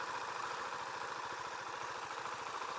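A Husqvarna Vitpilen 701 single-cylinder motorcycle engine turns over at low RPM, giving a faint, rhythmic, slightly clunky thumping pulse that stays steady under a soft broadband rush.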